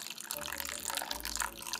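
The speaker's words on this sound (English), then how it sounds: "Let's see what happens when we add water to it." Water is poured into a food stylist mixture, a short, close splashy trickle of liquid lasting under two seconds with no voices.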